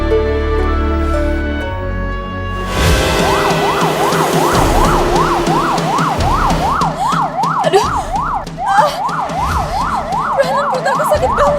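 An ambulance siren wails loud and near in a fast rising-and-falling cycle that starts a few seconds in, after a stretch of music, and repeats steadily to the end over a low rumble.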